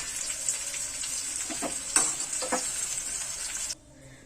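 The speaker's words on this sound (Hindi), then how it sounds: "अब सब्जियों को मैं थोड़ा भूनूंगी" Mixed vegetables, capsicum among them, fry in oil for a dhaba-style mixed veg dish. A dense, bright sizzle carries a few stirring scrapes, then cuts off abruptly near the end.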